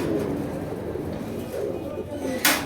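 Pairs of pigeons, including a ruddy-necked pair, coo softly in a loft amid steady background murmur and rustling, with a brief sharp noise near the end.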